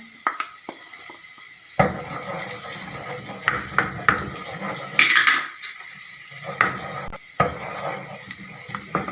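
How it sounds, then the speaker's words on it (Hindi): Garlic and green chilies sizzle softly in a pan while a metal spoon clinks and scrapes against the pot in irregular knocks. "अब ये लहसुन और हरी मिर्चें फ्राई हो चुकी हैं"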